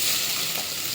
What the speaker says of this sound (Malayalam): ഇതെല്ലാം കൂടി നമുക്കൊന്ന് വഴറ്റി എടുക്കാം